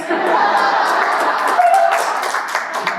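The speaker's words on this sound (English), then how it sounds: "you get an applause for just being younger than the rest of us" An audience at a conservative political event applauds the students with loud, sustained clapping from a crowd, dense and continuous throughout with a few voices mixed in.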